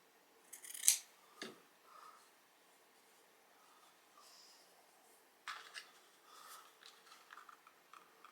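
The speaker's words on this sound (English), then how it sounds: "Cut that off." Scissors snipping while making spindle snowmen crafts, a few sharp close cuts early on followed by quieter rustling and handling, then another cluster of snips and light scraping, with no talking.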